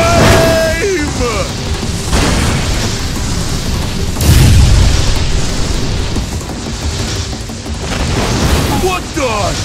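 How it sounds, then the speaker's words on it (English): Flame bomb explosion in Roblox Brookhaven, a loud deep boom with rumbling burst mixed among game effects and excited voices talking over it. "Flame bomb!"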